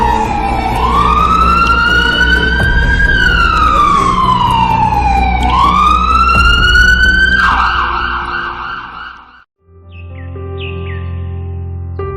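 A loud wailing siren sweeps up and down, then switches to a faster yelp before cutting off briefly and resuming with short chirping tones.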